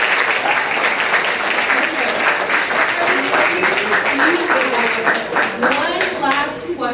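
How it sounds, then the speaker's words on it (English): A school audience claps for Riley at a student council debate, with dense, steady applause holding at full strength and a voice speaking over it near the end. "let's give a round of applause for Riley"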